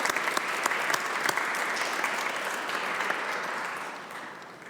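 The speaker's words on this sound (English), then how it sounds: "maybe we could give them a little applause as well for the great work the staff has done" Audience at a religious freedom event applauding the staff, dense sustained clapping from a crowd that fades slightly toward the end.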